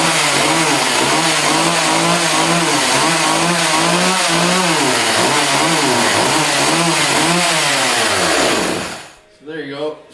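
Engine cold start on a cold day, with a loud, rough idle and a rhythmic wobbling pulse that runs unevenly for about nine seconds. It then abruptly dies, followed by a brief stuttering sputter.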